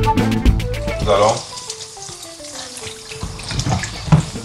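Pieces of meat drop into hot oil during a couple's cooking contest, giving a wet sizzling and bubbling that comes and goes beneath a descending musical tone and scattered clatter.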